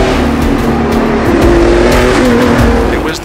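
Porsche cars race hard while a chase scene for a Big Game commercial is being filmed, with loud, sustained engine roar and tire squeal close by for several seconds.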